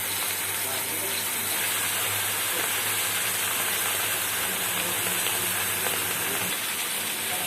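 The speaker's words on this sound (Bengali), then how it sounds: "একদিকটা ভালোভাবে ভাজা হয়ে গেছে, অপর দিকটা ভেজে নেব।" Pomfret fish rubbed with salt and turmeric fries in hot oil, a loud, steady, close sizzling hiss that runs unbroken through the whole stretch with no voices.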